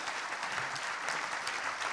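A conference audience applauding the speakers, dense even clapping at moderate distance, continuous and unbroken for the whole moment.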